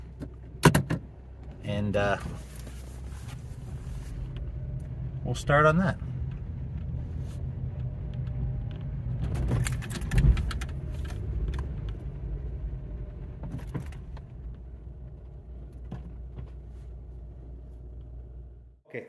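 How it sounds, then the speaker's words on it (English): A 2008 Honda Civic is driven into a warm home garage, its low engine rumble steady throughout, with a few sharp door or key knocks. A person talks over it. "Just get the car pulled in there where it's warm"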